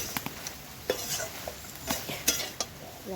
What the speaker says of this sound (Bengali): আস্তে আস্তে নাড়বো আর রান্না করতে থাকবো